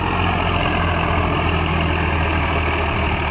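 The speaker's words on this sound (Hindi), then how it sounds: "ट्रैक्टर भाई पूरी जान लगा रहा है भाई" A Swaraj 744 XT tractor fitted with a rotavator labours through sandy soil that has been harrowed three times, its engine holding a loud, steady, dense drone from start to finish.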